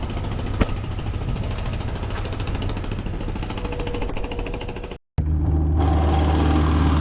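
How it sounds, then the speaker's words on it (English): Construction work runs loud and steady nearby, a dense mechanical rumble and rattle like a jackhammer that cuts out briefly for a moment, then resumes as a heavy low drone. "Got some construction work going on, so it's a little loud."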